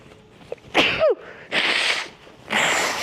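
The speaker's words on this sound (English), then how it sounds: "Oh no, I have to sneeze again." A person sneezes loudly with a sharp inhale and burst, followed by two more sneeze-like bursts, close and alone.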